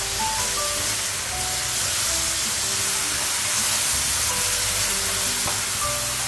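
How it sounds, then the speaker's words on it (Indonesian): Chopped spice paste hits a hot frying pan in a home kitchen, a loud, dense, continuous sizzle and hiss with faint background tones, no voices. "Selanjutnya kita masukkan bumbu yang sudah kita chopper."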